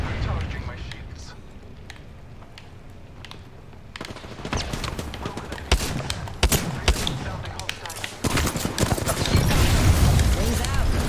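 Video game gunfire crackles in bursts through a Halo-style firefight, picking up after a few seconds and growing denser and louder toward the end, with voices talking over it.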